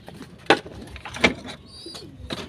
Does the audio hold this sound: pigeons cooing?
yes